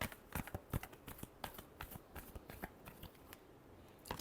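Tarot cards being shuffled by hand, a close, soft papery flutter of repeated riffles and taps running steadily throughout.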